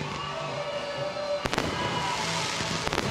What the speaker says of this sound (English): as the fireworks light up the night sky here in Pardubice